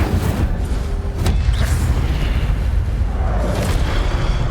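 An Incendio fire spell bursts in Hogwarts Legacy, a loud, deep boom followed by a rolling, roaring blast that stays full and heavy for several seconds.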